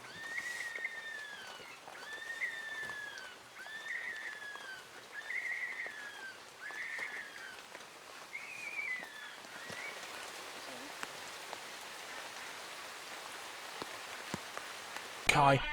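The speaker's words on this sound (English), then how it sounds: "But the rain begins to really lash it down" Steady patter of rain lashing down at night in a zoo during a storm, with repeated bird calls over it early on and sharp drops striking close by.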